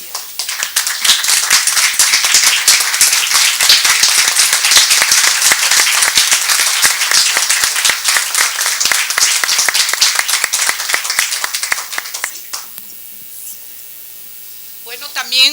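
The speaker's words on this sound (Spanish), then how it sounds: "brindemos un fuerte aplauso a la maestra Coco" Loud, dense applause for a teacher at a university humanities gathering in Lagos, a sustained crowd clapping for about twelve seconds before stopping abruptly, leaving quiet room tone.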